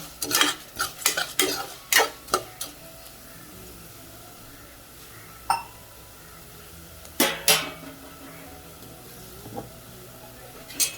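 Black pepper and spices are sautéed in a pan for venn pongal. A ladle scrapes the pan in quick bursts of strokes separated by quieter stretches of gentle frying.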